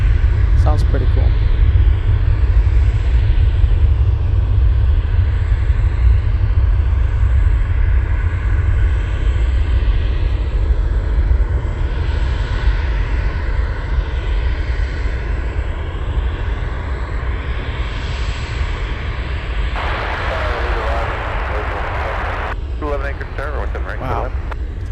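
An MD-11 jet airliner taking off at Anchorage airport, a loud continuous roaring rumble of jet engines that holds steady throughout and eases slightly toward the end, with some faint noise late on.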